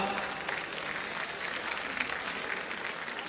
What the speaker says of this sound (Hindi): तो आप पर भी थोड़ी जिम्मेदारी है कि आपकी भी तालियां उठें।